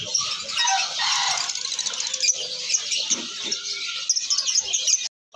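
Lovebirds in crowded cages at a bird market, giving a dense, loud wash of shrill chirping with bursts of wing flutter and scuffling, continuous for about five seconds before stopping.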